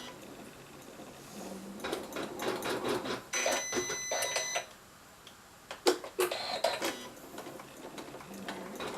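Sewing machine stitching a seam on a stocking, bursts of rapid mechanical clatter in two main runs separated by a short pause, quiet and close with faint ticking between, no voices.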